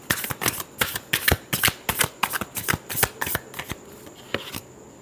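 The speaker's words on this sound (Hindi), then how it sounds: "Last shuffle." Tarot cards shuffled by hand at close range, a steady run of crisp riffling bursts and slaps that is loud and rhythmic, then slows and thins toward the end with no talking.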